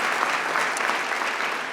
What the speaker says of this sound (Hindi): एक बार जोरदार तालियां लक्ष्य के लिए बजा दीजिए प्लीज एवरीबॉडी।